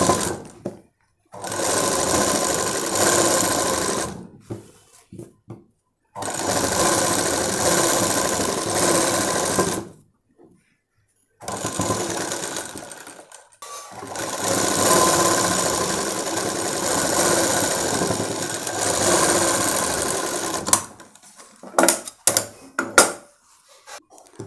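A sewing machine stitches a Punjabi dress top in four long, steady runs separated by brief pauses, loud and close, with a few light clicks and handling noises at the end.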